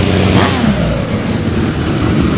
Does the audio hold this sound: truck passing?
yes